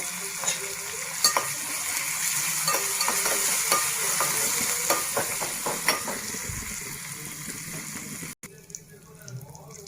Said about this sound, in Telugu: పోపు అయితే ఎగిపోయిందండి